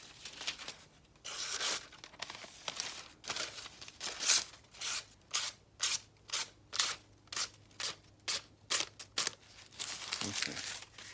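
A sharpened knife slices shapes out of paper: after some rustling, about ten quick, evenly spaced cutting strokes sound close up, each a short crisp rasp.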